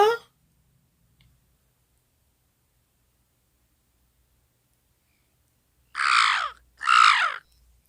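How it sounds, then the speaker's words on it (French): Crow cawing: two loud, harsh caws close together near the end, after a long near-silent stretch with a brief voice fragment at the start. "Et on l'appelle un corbeau"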